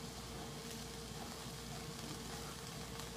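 Onions and green peppers fry in a pan for a steak and cheese dip, giving a steady, faint sizzle with no talk over it.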